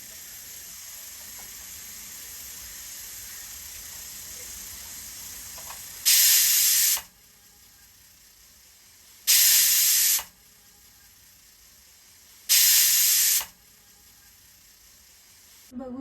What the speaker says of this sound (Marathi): आता मी झाकण लावून घेणार, 3 शिट्ट्या करून घेणार आहे मध्यम आचेवर